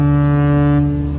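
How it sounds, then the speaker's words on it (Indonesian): A ship's horn sounds at Merak port in one loud, deep, sustained blast, close and alone, holding steady for over a second before tailing off. "kapal itu kalau bunyi mengagetkan"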